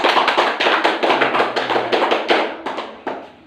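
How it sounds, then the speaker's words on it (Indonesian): Classroom applause for a student, a quick run of sharp hand claps from a small group of schoolchildren, fairly close and steady, then thinning out and trailing away with a few last isolated claps near the end. "Tepuk tangan untuk Diki."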